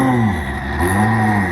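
A race car engine revs loud and close at Crail Raceway, a rough low-grip track, its pitch climbing and dipping in steady sustained drones through the whole stretch.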